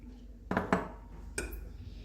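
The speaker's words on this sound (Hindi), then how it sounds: "जब आलू को हम मैश कर लेंगे, इसमें मैं अब ब्रेड क्रम्स डालूंगी" A spoon knocks against a bowl while bread crumbs go into mashed potatoes for potato cheese balls, two sharp clinks close together and a third a moment later, close and fairly quiet.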